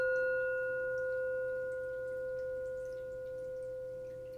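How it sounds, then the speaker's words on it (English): Several Himalayan singing bowls ring together in clear, sustained metallic tones that hum and slowly waver in a quiet room. "let me just play the tones of these other bowls here"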